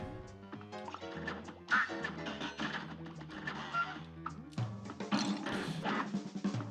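Ducks quacking in the video game Cuphead, short cartoonish quacks scattered among busy game music and effects, with hits and crashes, no talk.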